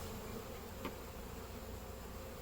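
Honeybees droning around an open hive in a beekeeper's yard, a faint even hum throughout with one brief nearer buzz passing by.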